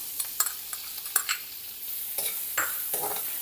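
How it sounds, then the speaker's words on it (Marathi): Onion and curry leaves sautéing in hot oil for kande pohe, a close sizzle with repeated spatula scrapes and stirring knocks at an uneven rhythm, no talking. "ही कांदा छान परतून घेते आहे"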